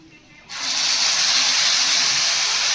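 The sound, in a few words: soaked spice paste with water added to hot oil, hissing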